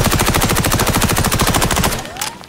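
An MP5 submachine gun in the game XDefiant fires a long, rapid, loud automatic burst of evenly spaced shots up close, then stops abruptly with a brief mechanical tail.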